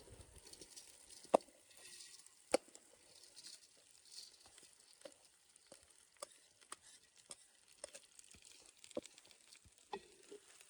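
Rice, lentils and chicken fry in hot oil in a pot for a bhuna khichuri, a soft steady sizzle broken by scattered sharp spatters and clinks of stirring.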